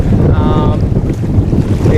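Strong wind buffets the microphone beside a choppy lake, with a broad roar of gusts and water over which a faint motor tone briefly rises, as offshore superboats come onto the course at Lake Macquarie.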